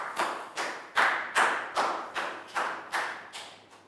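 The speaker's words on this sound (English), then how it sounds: "Round of applause for Lackout." A class of young pupils claps in unison for a classmate during a primary science lesson: about nine evenly spaced, ringing group claps in a steady rhythm, fairly close and with no talking.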